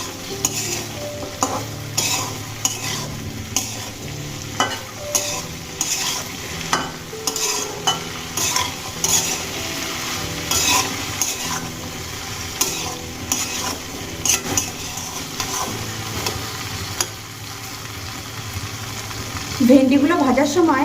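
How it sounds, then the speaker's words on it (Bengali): Okra (bhindi) being stir-fried in a pan with a little turmeric over a medium gas flame, a steady close sizzle broken by repeated scraping and stirring strokes of a spatula throughout. "এবার আমি ভেন্ডিগুলোকে ভেজে নেব।"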